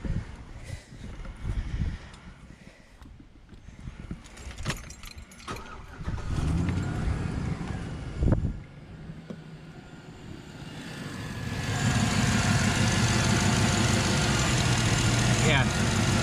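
A Chevy Tahoe being checked for a P0496 evap purge solenoid fault is started after some clattering and handling noise, and its engine runs with a loud, steady roar through the final few seconds.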